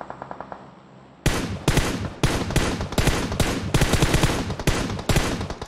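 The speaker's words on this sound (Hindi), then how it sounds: "सारी गोलियां लगी उसको, सारी गोलियां, एक भी गोली मिस नहीं की मैंने" Rapid bursts of automatic gunfire in the video game Battlegrounds, loud and close, firing in quick repeated volleys after a brief quieter lead-in of lighter clicks.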